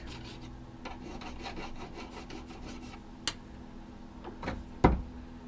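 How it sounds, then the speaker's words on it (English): A file rasping back and forth across a cane reed blank to flatten its cut and remove the burr, with steady close scraping strokes, then a few sharper knocks and taps near the end. "So I'm doing now is flattening any sort of uneven cut, not doing a lot of it, and I'm also getting rid of the burr"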